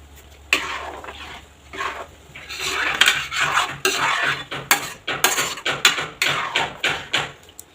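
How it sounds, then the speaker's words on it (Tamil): A metal spoon stirs asafoetida powder into thick pepper kuzhambu in a pot, making loud, rhythmic scraping and clinking against the sides, close and continuous. "நான் பெருங்காய பொடி போட்டதுனால குழம்புல மிக்ஸ் பண்ணுறேன்"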